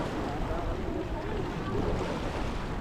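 Steady low engine drone over rushing water and wind, a boat motor running close by without pause.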